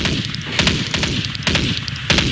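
Gunfire in the Counter-Strike 1.6 video game: a run of sharp, punchy shots fired in quick bursts, with several evenly spaced reports close and loud.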